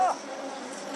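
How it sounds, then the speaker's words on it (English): A furious swarm of stinging bees in the Amazon jungle buzzes in a dense, steady drone close to the microphone, with a brief louder burst at the very start. "I've got bees all over me. They're stinging."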